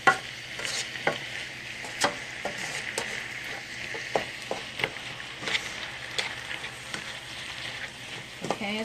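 Ground turkey browning in a pan for bean turkey chili, a steady close sizzle and crackle broken by repeated scrapes and clicks of a spoon stirring the meat.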